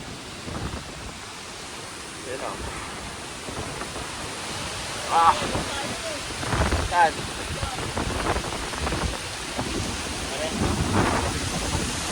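A storm with thunder and heavy rain gives a steady broadband wash of rain, with rumbling thunder bursts swelling now and then over the twelve seconds while people talk and exclaim nearby.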